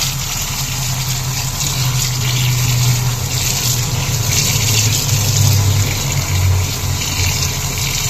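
Chopped banana flower is washed under a running kitchen tap, a steady loud gush of water splashing into a vessel with shifting rushes and sloshing, close by and continuous, with no talking.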